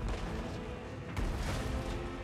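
An engineer unit fires at goblins in a Total War: Warhammer 3 battle: a dense, continuous roar of gunfire and booms with one sharper burst partway through, set in a constant din of fighting.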